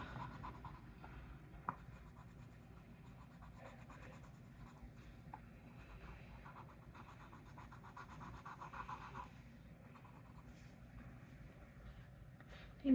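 An alcohol marker colors roses on a page, giving a soft, steady scratchy stroking across the paper that runs close and continuous under faint background noise.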